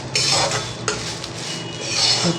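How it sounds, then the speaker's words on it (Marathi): Dry, rattling scrapes of a spatula stirring sprouted moth beans dry-roasting in a pan without oil, with a clinking metal knock partway through and gentle sizzling underneath. "मटकीची भाजी करता, पावट्याची भाजी करता, तेव्हा नेहमी असं भाजून घ्यायचं अगोदर"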